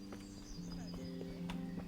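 Horse hooves clop in an uneven rhythm over a steady low hum, with faint background tones, in the video game Kingdom Come: Deliverance.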